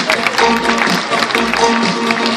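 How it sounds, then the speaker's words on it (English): Audience clapping for a sea lion that has just dropped a stick and caught a ball at a sea lion show, a brief, steady patter of applause from a crowd. "Give him a big clap, everyone,"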